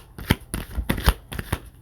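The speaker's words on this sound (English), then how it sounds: "I'm just going to shuffle and see what wants to jump out." Shadow oracle cards shuffled by hand in a series of quick, close riffling bursts, about five rustling pulses with brief pauses between, no talking.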